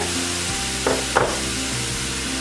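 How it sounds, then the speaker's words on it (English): Apple pieces sizzle steadily in a pan over high-medium heat with lemon zest, vanilla extract and brown sugar, a continuous close frying hiss broken by two brief stirring scrapes. "you cook together your apple, your lemon zest, vanilla extract, the brown sugar"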